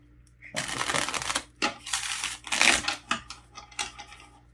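Magic: The Gathering cards are shuffled by hand in a series of quick riffling bursts, close and crisp, separated by brief pauses.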